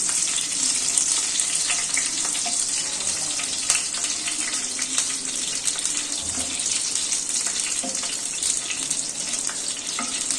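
Bay leaf and chilies tempering in hot oil for a Bengali aloo potol curry give off a steady, bright frying sizzle with faint crackles, continuous and close, with no talking.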